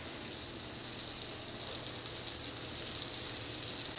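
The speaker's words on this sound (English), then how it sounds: "put it in our cast iron skillet. Listen to that sizzle" A beef patty searing in a hot cast iron skillet for homemade cheeseburgers makes a steady, close, continuous sizzle and crackle throughout, with no talk.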